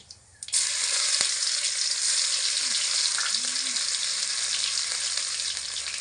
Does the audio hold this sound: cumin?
yes